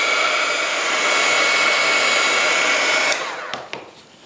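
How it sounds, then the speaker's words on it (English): A hair dryer blows steadily on a craft piece, a loud close whooshing roar for about three seconds before it is switched off and spins down with a couple of clicks. "I'm gonna dry that so I don't mess it up."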